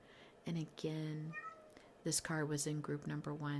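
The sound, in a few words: domestic cat meowing in the background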